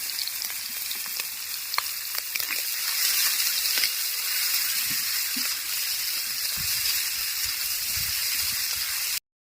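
Prawns fry in a pan with a dense, continuous sizzle and crackle, close and fairly loud, with occasional stirring clicks and no voices over it.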